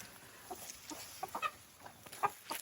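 Chickens cluck in short scattered calls around a poultry farm in Ghana on a hot day, with a few louder, nearer bursts over a steady faint background hiss.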